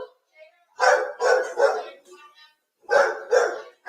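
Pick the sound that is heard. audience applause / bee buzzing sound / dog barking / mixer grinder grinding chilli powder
dog barking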